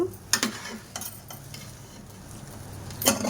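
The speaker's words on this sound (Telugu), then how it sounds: "నేను వేసి బాగా చిన్న ఫ్లేమ్ మీద పెట్టి ఫస్ట్ కలుపుకోండి." Egg fried rice made without sauces is stirred in a pan over a low flame, with a few close, sharp spatula scrapes against the metal and a soft sizzle between them.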